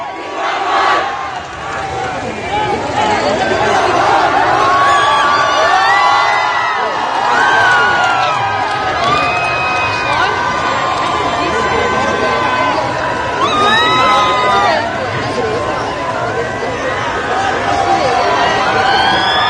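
Large crowd at a university rally in Lahore chanting the Pakistan Zindabad slogan: loud, sustained massed shouting and cheering with a few whoops rising above it, continuing throughout.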